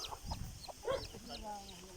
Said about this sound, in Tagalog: Galit ang manok.